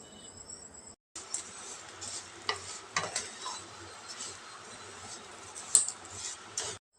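Vermicelli being roasted in ghee in a pan over a low flame, giving a steady soft sizzle with occasional light stirring scrapes and clinks, close and continuous, with no voices.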